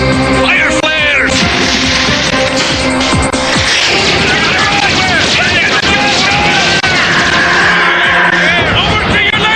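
Flares fire in an animated sci-fi series set on a space ring orbiting Earth, with a loud cluster of whooshing launches and crashing blasts amid swelling music and effects, while voices shout over the din.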